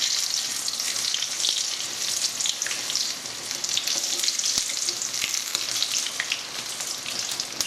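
Spam fritters in beer batter fry steadily in a pan, a dense, continuous crackling sizzle with scattered sharp pops, fairly loud and close, with no talking.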